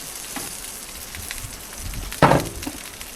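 Eggs and egg whites sizzling on a Blackstone griddle outdoors at a Newfoundland cabin on a windy morning, steady crackling fry with a louder burst of sizzle near the end, close up.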